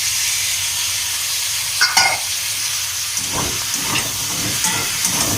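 Taro and hog plum being stirred in a pan with ground mustard, cumin and chili paste, a steady frying hiss broken by a few scraping stirs of the spoon, close and alone.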